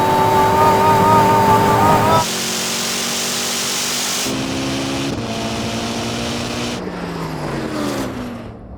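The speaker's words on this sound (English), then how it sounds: "Now that Koenigsegg's flying." A Koenigsegg hypercar pulls hard at speed, its engine note loud and continuous with stepped pitch changes like gear shifts, rising tones between each step.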